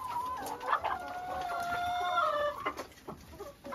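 Farm chickens from a flock of around 120 laying hens cluck and squawk close by, with busy overlapping calls and a few rising cackles, no talk over them.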